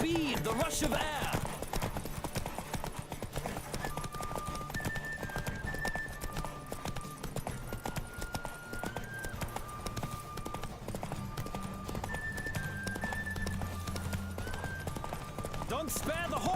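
Galloping horse hooves during a race in The Witcher 3 video game, a rapid continuous clip-clop under game music and voices.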